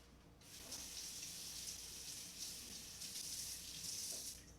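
A kitchen tool being rinsed under a kitchen tap: a steady hiss of running water streams and splashes continuously, faint and even, with slight surges as the tool moves through the flow.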